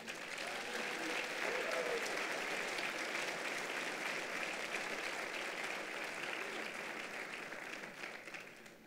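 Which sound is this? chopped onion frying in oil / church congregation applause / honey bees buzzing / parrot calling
church congregation applause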